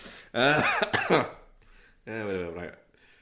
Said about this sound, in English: I'm going to cough a little bit.